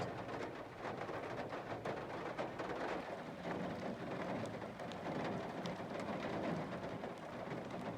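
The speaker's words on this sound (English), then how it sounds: "it's freaking raining" Steady rain falls outdoors on a farm in lambing season, a dense continuous hiss of drops with occasional louder patters and faint birdsong behind it.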